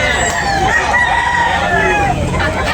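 A bullstag rooster offered for sale crows loud and close, one long, warbling crow that runs through the whole moment.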